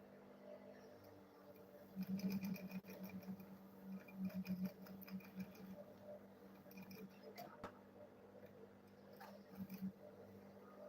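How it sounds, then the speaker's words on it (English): Sewing machine stitching a leather school bag along a curve: a quiet, steady mechanical whir with rapid needle ticks that runs in bursts, heard under a voice that talks across it. "So I'll go ahead and sew it this way."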